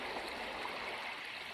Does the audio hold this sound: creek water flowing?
yes